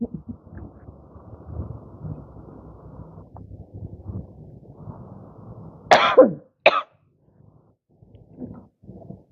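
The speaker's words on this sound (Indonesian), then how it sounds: "Sisa sakit, batuk." Two short, sharp coughs stand out over faint background murmur and rustling, followed by quiet.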